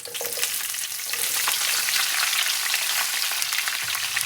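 Chopped ginger and green chillies for pickle frying in a pan, a dense, even sizzle close up with faint stirring clatter, continuous and without any voices.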